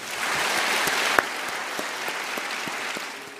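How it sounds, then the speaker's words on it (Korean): Applause from a seated audience welcoming Professor Wallerstein at the opening ceremony of the Peace BAR Festival 2012, a full, even burst of clapping from many people that continues steadily throughout. "큰 박수 부탁드립니다."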